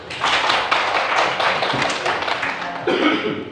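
An audience claps together in a steady, moderately loud burst of applause lasting a few seconds, with a stray voice near the end.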